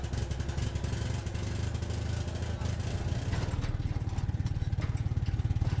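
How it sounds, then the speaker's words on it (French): A Citroën 2CV engine sputters as it tries to start, then settles into a fast, rhythmic putter that sounds close by and grows more regular toward the end. "le bruit caractéristique du moteur d'une 2 chevaux, qui ne démarre d'ailleurs pas forcément du premier coup"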